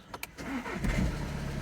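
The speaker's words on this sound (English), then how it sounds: "Let's turn on the car and see live how things change." A car engine cranks briefly with a couple of quick clicks, then catches and settles into a loud, close, steady idle rumble.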